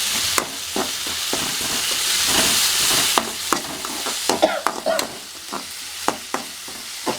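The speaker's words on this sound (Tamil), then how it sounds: "வெங்காயம் கொஞ்சம் பாதி வதங்கினதுக்கப்புறம் இஞ்சி பூண்டு பிடிச்சி போடுங்க" Onion sautéing with ginger and garlic for masala bajji, a steady oily sizzle with a spoon scraping and knocking against the pan in irregular strokes, close and fairly loud.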